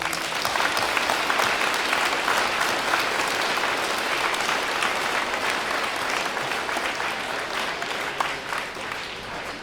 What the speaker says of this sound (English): Can I get a round of applause on that?